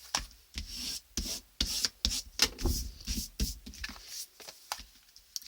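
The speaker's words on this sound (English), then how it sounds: "Use our bone folder just to press it down properly." A bone folder rubs and presses down glued paper in quick rasping strokes, about a dozen short bursts close to the mic in an uneven back-and-forth rhythm, with nothing else heard.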